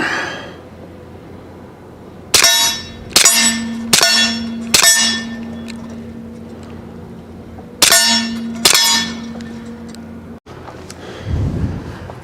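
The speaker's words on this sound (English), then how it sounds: "6 rounds on that plate." An HK Mk 23 .45 ACP pistol fires at a steel plate, with six loud sharp shots in two groups, each one followed by a ringing metallic clang that slowly fades, then a softer rumble at the end.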